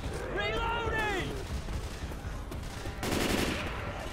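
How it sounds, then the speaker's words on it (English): Gunfire in the co-op shooter Left 4 Dead 2, heard as bursts of shots mixed with game noise and a voice, ending in a loud, dense volley near the close. "Stop shooting me."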